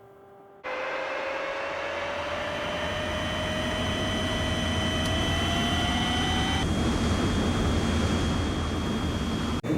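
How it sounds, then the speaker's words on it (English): An F-86A5 Sabre jet engine starts up in IL-2 Korea: a sudden loud onset, then a rising turbine whine climbing steadily in pitch over a heavy roar, close and continuous with no talk. "I'm going to go ahead and start the aircraft so we get engine power and instrument power."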